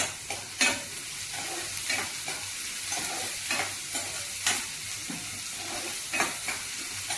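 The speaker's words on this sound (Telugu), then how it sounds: "వేగుతాయండి, బ్రౌన్ అవుతాయండి తొందరగా." Bottle gourd koftas fry in a pan with a steady, close sizzle, broken by sharp clinks and scrapes as they are stirred.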